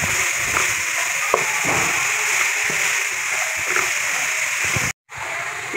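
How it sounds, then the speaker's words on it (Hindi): Chicken samosa filling fries on a medium flame, a steady bright sizzle and splatter running throughout with light clinks, broken by a brief drop near the end. "और इसे भी हमने हल्का सा फ्राई करना है मीडियम फ्लेम पे।"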